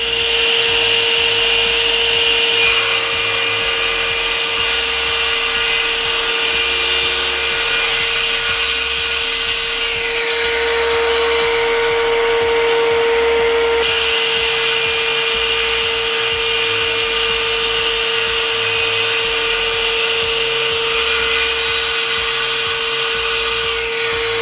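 A SIP 10-inch cast iron table saw with a sliding carriage rips through Iroko hardwood, a loud, sustained high whine with a steady motor hum underneath that shifts in pitch as the blade bites, with no talking.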